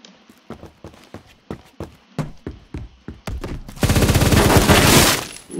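Single gunshots from a gun in the Roblox game Phantom Forces, spaced in an irregular rhythm, followed by a loud sustained burst of rapid automatic fire.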